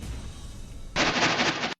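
Gunfire as a sound effect: a rapid burst of several sharp shots crackles loudly and ends abruptly, following a low rumbling background with no talk.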